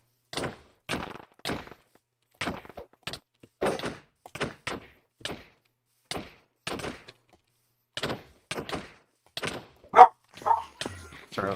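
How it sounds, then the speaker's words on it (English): A dog barking in short, sharp bursts, a dozen or so separate barks spaced irregularly with quiet gaps between them, fairly close and loud. "Sorry about the dog."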